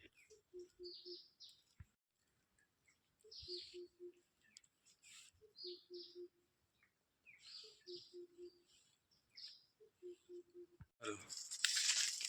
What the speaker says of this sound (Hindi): चिड़िया की आवाज़ सुनो भाई, कितनी डरावनी है